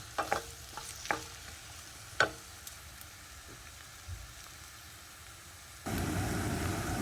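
Onions cooking in a pan for a goat or lamb brain masala: a few quiet, close stirring scrapes and taps, then a sudden, steady and louder sizzle for the last second or so.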